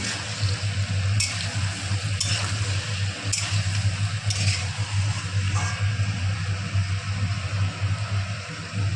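Cumin, chili and coriander powder stirred in a pan of potol curry, a close steady sizzle under a low hum, with a few crisp spatula scrapes spaced about a second apart.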